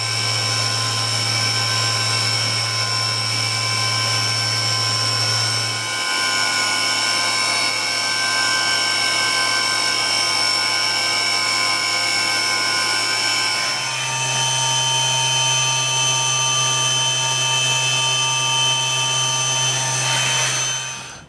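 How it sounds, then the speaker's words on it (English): A CNC machine runs a dry cycle without cutting, giving a steady close mechanical whine and hum with a drop in pitch partway through and a brief shift near the end, with no talking. "that's commonly referred to as a ghosting cycle. Okay, we're not actually cutting anything, we're just validating it."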